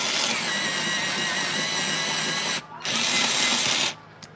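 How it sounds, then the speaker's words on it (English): An electric pencil sharpener grinds pencils in two loud, steady bursts with a short pause between them, close by and with no one talking. "but I have to sharpen my pencils."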